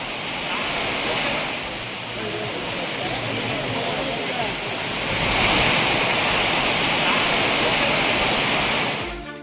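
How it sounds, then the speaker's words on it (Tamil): Courtallam waterfalls in Tenkasi district pour down where crowds of tourists bathe. The falling water makes a loud, continuous rushing roar that swells slightly midway, and a news narrator's voice runs over it. "தென்காசி மாவட்டம் குற்றால அருவிகளில் சுற்றுலா பயணிகளின் கூட்டம் அலைமோதியது"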